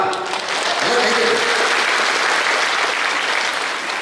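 Audience at a comedy debate show breaking into applause, a loud, dense and continuous wash of clapping from a large crowd, with faint voices briefly audible at the start.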